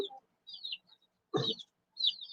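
Chickens near a coop give short clucks and chirpy calls, four brief bursts spaced across a couple of seconds, fairly close and alone without talking.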